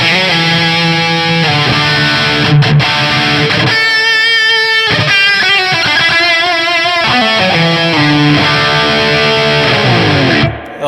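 A Marshall JCM900 guitar amplifier plays with its reverb turned up deep, giving loud sustained distorted electric guitar notes and chords that ring out and trail off, with no talking.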